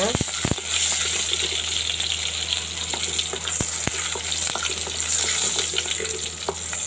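Onion and garlic sautéing with a pinch of salt in a pan for red pumpkin pulikulambu, an even sizzle punctuated by a few sharp spatula clacks against the pan, close and unaccompanied by speech.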